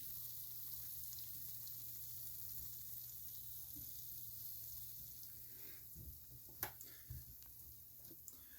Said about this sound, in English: I don't know if you guys can hear that sizzling.